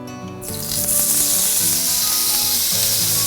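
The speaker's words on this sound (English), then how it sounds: "So now I have a very hot pan, so a very hot grill, and I'm going to put the meat" Lamb rump hitting a very hot grill after resting in rapeseed oil, breaking into a sudden loud sizzle that holds steady and close, hissing continuously with no talking.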